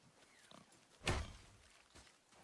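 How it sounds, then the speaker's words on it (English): A pig oinks once in the God of War video game, a single loud grunting burst up close, with faint game ambience around it and no talk. "A pig."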